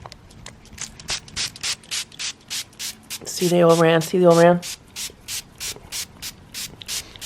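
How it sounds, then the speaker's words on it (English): Rapid repeated hissing bursts from a spray bottle spraying vinegar along an ant trail, steady rhythmic pumps, close by, briefly interrupted by a person speaking in the middle. "I'm just going to try to spray around here as much as I can."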